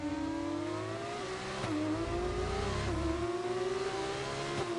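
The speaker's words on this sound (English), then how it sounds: "I just love the sounds of these gearboxes and engines cheering" Race car engines and gearboxes on a circuit, one car's engine rising and falling in pitch through gear changes, sustained and fairly close, with no talk over it.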